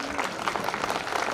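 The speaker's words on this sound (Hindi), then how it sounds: "तालियों से उनका स्वागत कीजिए।" An audience claps to welcome guests onto the stage at a lamp lighting ceremony, a dense and sustained burst of applause.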